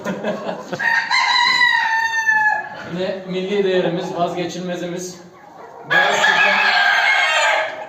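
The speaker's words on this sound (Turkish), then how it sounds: "Osmanlı Sultan tavuklarımız ve siyah Osmanlı Sultan tavuklarımız var." Ottoman Sultan roosters crow loudly nearby while hens cluck, with someone speaking over the birds at times.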